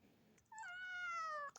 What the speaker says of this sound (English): Let us hear a loud meow.